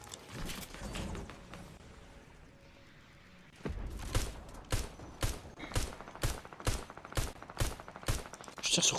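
Rapid bursts of gunfire in the battle royale video game Fortnite, sharp repeated shots cracking in a steady rhythm after a brief lull, loud and close, with a player's voice talking over parts of it.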